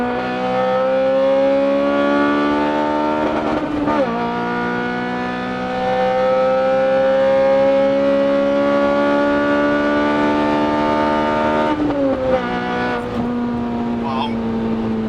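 Honda Civic Type R FN2 pulling hard down a straight, a loud, steady engine note climbing in pitch through long gear pulls, with a shift near four seconds and another around twelve, heard from inside the car.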